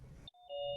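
A short electronic chime of two clear tones, marking people joining or leaving an online call, sounds over faint background noise, brief and soft.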